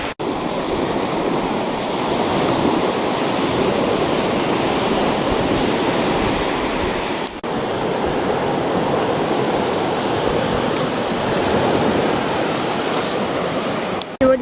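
Sea waves breaking on the shore make a loud, continuous wash of surf with some wind noise and a brief dip partway through, and no speech.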